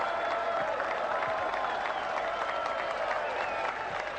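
Audience applause for a future deputy governor of Pennsylvania at a staged political event in a 1993 film, a steady dense wash of clapping throughout, loud and continuous with no pauses.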